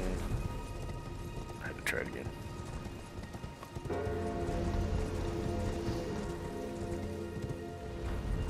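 Horse hooves galloping in the video game Elden Ring, a rapid continuous clatter mixed with rain and game sounds, loud and close throughout.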